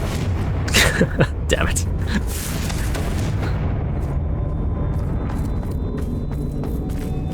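A Confringo fire spell blast in the video game Hogwarts Legacy, a few sharp booming bursts early on followed by crackling debris and a low rumble that thins out, with a voice speaking briefly over it.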